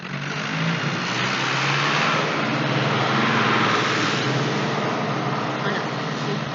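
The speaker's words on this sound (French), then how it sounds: "c'est assez passant en termes de camions et de tracteurs dans le village" Heavy vehicles such as trucks and tractors pass through a country village, a broad engine roar swelling to a peak and easing off as they go by.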